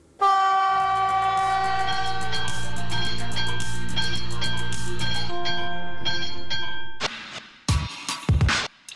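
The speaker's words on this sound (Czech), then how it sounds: "To je jen kanadská dieselová lokomotiva při těžké práci." A Canadian diesel locomotive working hard sounds its loud horn in a long, steady chord for about seven seconds, then stops, followed by a few sharp, uneven bursts of noise.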